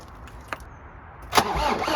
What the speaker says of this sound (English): This is Jeep start attempt 2.